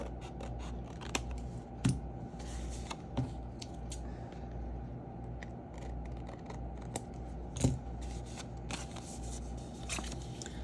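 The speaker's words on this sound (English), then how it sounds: "I just go back with my scissors and trim that off." Scissors snip along a paper edge during a tea-book craft, with a quiet, steady run of small crisp cuts and rustles and a few louder snips, up close and without talk.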